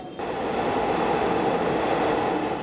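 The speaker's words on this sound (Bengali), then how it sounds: "যানজটের এই নগরে স্বপ্নবাহন মেট্রো রেল।" A Dhaka metro rail train runs past with a steady, loud broadband rumble and hiss that holds evenly from start to end, with no voices.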